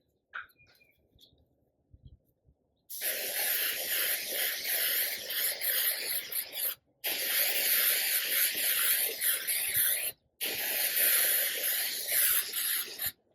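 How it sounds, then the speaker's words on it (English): Long steady hissing bursts from a spray can of mold release onto rubber tile molds, three sustained sprays separated by brief pauses after a quiet start. "We're gonna go ahead and spray our mold release on it."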